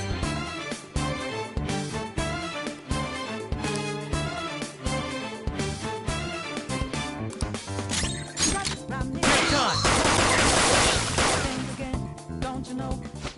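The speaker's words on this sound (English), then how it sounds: "Point it at a shadow and fire." Gunfire from a gun in Persona 5 Royal rings out as a rapid string of sharp, punchy shots over busy game audio, with a burst of crashing impacts near the end.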